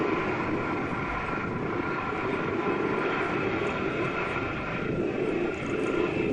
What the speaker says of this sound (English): This Boeing 747 destroying the terrain next to the runway while taking off.